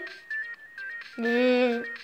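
A phone alarm ringtone sounds as a loud, bright multi-tone electronic melody lasting about half a second, with a thinner beeping tone before and after it.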